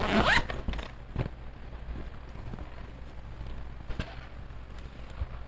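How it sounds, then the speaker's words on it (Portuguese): A zipper is drawn closed on a handmade box-style fabric shoulder bag, one quick rasping pull at the start followed by soft handling clicks and rustles, close and clear. "Agora eu vou fechar o zíper."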